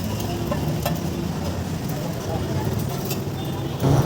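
An egg sizzling on a hot oiled griddle at a Kolkata street egg-roll stall near Netaji Bhawan metro station, a steady frying hiss under a person talking and passing traffic.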